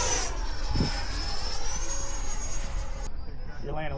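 Model aircraft flying over an airfield, a steady whining engine tone that shifts in pitch as it passes, with people talking nearby throughout.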